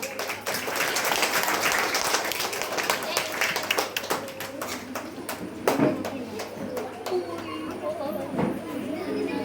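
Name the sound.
applause, everyone clapping at a school welcome event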